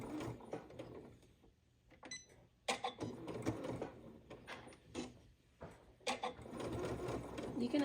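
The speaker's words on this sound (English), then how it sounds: "for the last inch on either side, I'm going to do a straight stitch" A sewing machine runs a straight stitch while sewing a bra, with bursts of rapid mechanical clatter that start and stop close by, and faint speech in the background.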